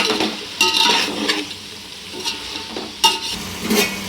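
Ginger garlic paste stir-fried in a hot pan for chicken pulao, a steady sizzle broken by a few sharp scrapes and clinks of a spoon against the metal pan, close and fairly loud, with no talking.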